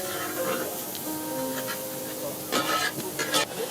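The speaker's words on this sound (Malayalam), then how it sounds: "അത് നന്നായിട്ട് ഇളക്കാം." Green chili, ginger and garlic stirred in a pan, giving a soft steady sizzle with scraping strokes that grow louder and busier toward the end.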